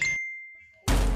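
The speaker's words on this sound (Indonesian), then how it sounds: "Gede banget notif lo." A phone notification ding sounds once, a clear bright tone that rings and fades over under a second, close and alone, followed by a sudden loud burst of noise.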